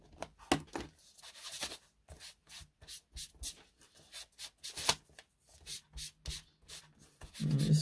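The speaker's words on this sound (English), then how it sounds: "So I'm going to use my green ink with my washing up sponge" A washing-up sponge dabs green ink onto paper in soft, irregular pats and rubs, close and quiet, with short gaps between the strokes and a brief louder rustle at the end.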